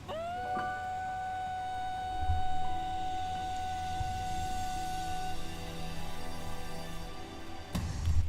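Opening of an anime J-pop song recording, with sustained bright tones ringing steadily over a soft low backing and a few light percussive touches, playing alone at moderate volume with no voices.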